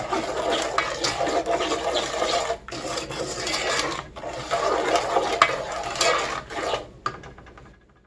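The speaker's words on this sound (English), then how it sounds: "And now stir that in." Cornmeal cookie dough is stirred in a bowl after vanilla is added, with repeated close scraping and rubbing strokes that pause briefly and fade out at the end.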